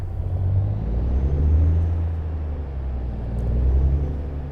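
An International 9900i truck engine idling in American Truck Simulator, a steady deep diesel rumble that swells slightly and holds loud and close, with no talk.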